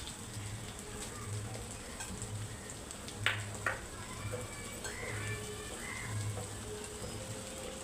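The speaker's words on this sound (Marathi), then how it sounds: "तर हे आता आपल्याला छानपैकी हलवून घ्यायचं आहे आपलं गुळ आणि खोबऱ्याचं मिश्रण" A jaggery and coconut mixture for sweet coconut rice is stirred in a pan, giving a faint continuous sizzle with a few soft spoon knocks and scrapes.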